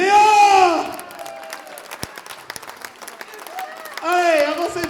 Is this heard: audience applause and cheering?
yes